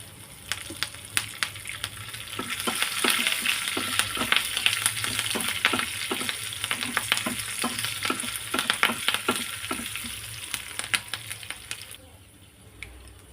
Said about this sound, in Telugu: తాలింపు ఫ్రై అయిపోయిందండి.